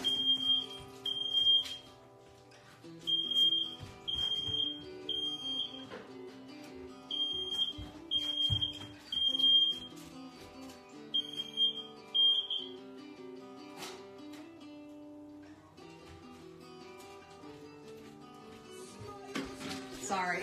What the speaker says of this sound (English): super sensitive fire alarm. So if there's even like the slightest bit of smoke in this house, which there always is when I'm cooking, it goes off